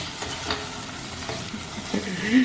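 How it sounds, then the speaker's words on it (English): Green chili and garlic paste fries in a hot pan while being stirred, giving a steady close sizzle broken by repeated scraping strokes of the spoon. "We'll be adding green chili and garlic paste. And we'll be frying it for 20 minutes again."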